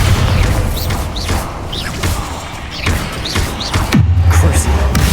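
A Bombarda spell explosion in Hogwarts Legacy lands as a deep boom near the end, amid thumps and combat noise, with a person speaking over it.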